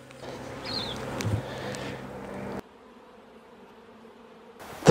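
Honeybees buzz around a hive in southern New Zealand, a steady close hum with a passing bee's pitch rising and falling, then the sound cuts to near quiet before a short burst returns at the end.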